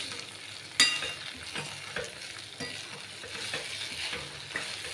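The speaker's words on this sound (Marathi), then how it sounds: "चला तर आपण हे हलवून घेऊ मस्त पाहिजे" Onion and potato poha being stirred in a hot pan, with a spatula scraping and tossing in steady strokes over a soft continuous sizzle, close and fairly quiet, starting with a sharp clink.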